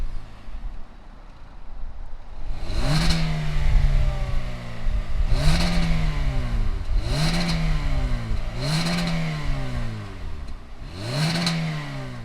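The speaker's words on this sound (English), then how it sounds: "let's go ahead, fire up this Venue and see if it makes any sound." A 2020 Hyundai Venue SE subcompact SUV with a CVT runs at idle and is revved five times in a steady rhythm, each rev climbing sharply then falling back. It is close and fairly loud, with no talking.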